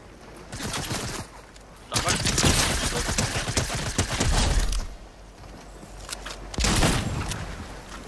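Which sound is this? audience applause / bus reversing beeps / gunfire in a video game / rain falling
gunfire in a video game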